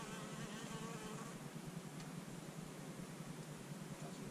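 Honeybees buzz inside a hive in January, a faint, steady, dense hum with no voices.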